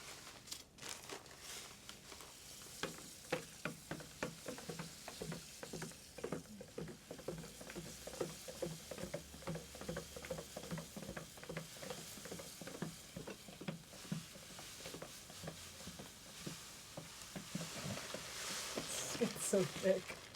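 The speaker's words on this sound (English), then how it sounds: "Okay, I'll pour in the grains if you stir." Malted grains are poured into hot water and stirred into a thick beer mash, making a quiet, rhythmic scraping and sloshing that repeats steadily throughout.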